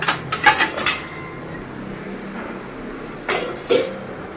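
Plates and dishes clink and clatter in a home kitchen while tea is being made, with one quick cluster of knocks early on and a second brief rattle near the end, fairly close and with no talking.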